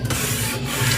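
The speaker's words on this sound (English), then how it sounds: "all I'm doing is just rubbing it in" Hand rubbing over a printed paper image to press it down, a close, continuous dry scuffing with a soft back-and-forth rhythm and no voices.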